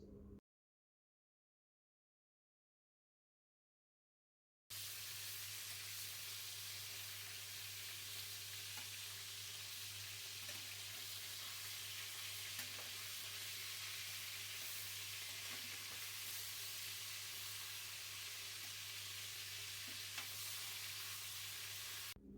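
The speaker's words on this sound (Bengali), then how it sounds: "আমি তেলে ভেজে নেব।" Pieces of fish rubbed with salt and turmeric fry in hot oil in a kadai, giving a loud, steady sizzle that starts after a few seconds of silence and keeps going without a break.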